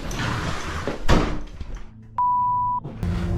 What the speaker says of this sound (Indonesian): Pintu kayu itu tiba-tiba saja bergerak dan menutup sendiri.